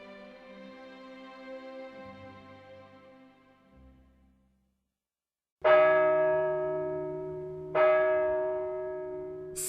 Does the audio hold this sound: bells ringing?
yes